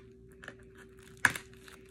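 A few quiet crinkles and scrapes, then one sharp cutting rasp as a razor blade slices open a package, close up, over a low steady hum.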